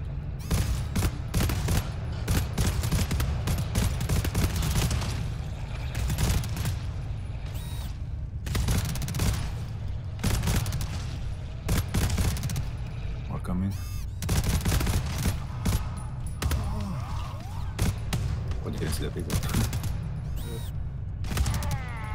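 Sniper rifle fire in GTFO amid heavy gunfire, with loud shots and bursts repeating over a dense, continuous din of mechanical clatter, and people talking throughout.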